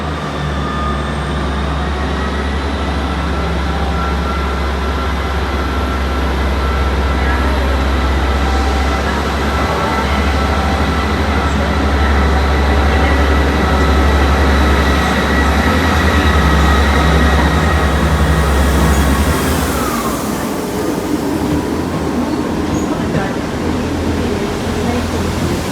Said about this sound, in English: The 1140 East Midlands Railway service from Liverpool Lime Street to Norwich and Nottingham